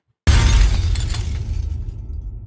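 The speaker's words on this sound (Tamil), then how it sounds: "கார் கண்ணாடி உடையும் ஓசை கேட்டது அவனுக்கு" Car window glass shatters in one loud, close crash, followed by a long tinkling spray of falling shards that slowly fades.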